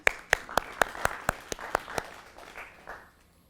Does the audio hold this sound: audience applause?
yes